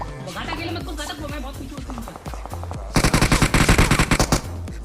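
Gunfire in a video game battle near a warehouse: scattered single shots early on, then loud rapid automatic bursts rattle through the last two seconds, close and dominant.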